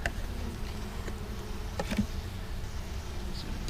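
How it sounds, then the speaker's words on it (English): Honey bees buzz steadily inside an open hive infested with small hive beetles during winter feeding, a continuous low drone with a few brief sharper sounds of handling. "Bees are defending themselves off these hive beetles."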